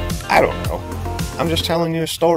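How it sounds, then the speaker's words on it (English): Dog yips and bow-wow barks in short bursts, heard outdoors with voices talking over them throughout. "That's my dog, man."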